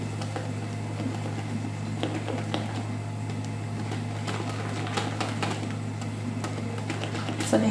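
Continuous scraping and soft tapping in a bowl as chocolate mini-cake batter is mixed with ground almonds and coconut, steady and close, over a constant low electrical hum; no one speaks.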